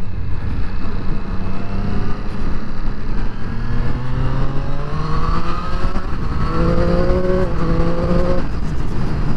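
A Triumph Street Triple RS motorcycle is heard close up with its engine note climbing through the gears, lifting the front wheel as it pulls hard. The roar is loud and continuous, with rising pitch sweeps over steady wind rush and no talking.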